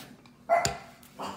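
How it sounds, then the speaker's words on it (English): A pet dog in a home kitchen lets out a short, close bark with a quieter yip after it, sudden and brief against a near-silent room. "I'm very sorry, that's my dog."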